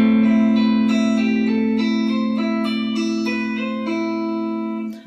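An electric guitar plays a film theme as a steady run of bright picked notes over a sustained low drone, with some effects and reverb, close and alone.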